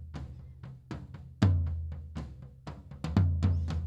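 A studio drum recording brings up 14-inch toms in a fill: a run of punchy, resonant tom hits in an uneven rhythm, some louder and heavier than others, close and dry.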